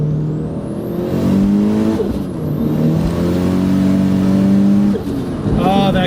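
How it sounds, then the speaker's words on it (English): A car engine with a badly slipping clutch revs hard on a closed course, the note climbing and holding high while the revs flare without matching speed, loud and continuous with brief dips between pulls. "Oh, that clutch is slipping."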